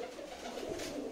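Soft cooing from Madrasi and Punjabi pigeons kept in a group of 65 for sale, a low, rolling warble heard faintly and continuously through steady background noise.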